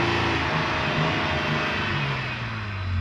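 A 2025 Nissan Armada's engine heard from outside the vehicle, a steady low mid-range drone with a slight rise and dip in pitch over a few seconds, close and fairly loud.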